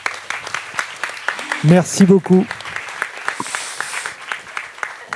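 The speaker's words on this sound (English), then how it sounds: "On peut l'applaudir quand même." Applause from an audience at an Ocean Pavilion session on ocean and biodiversity, rising as a broad wash under continuing talk, with a few loud voiced bursts cutting through partway.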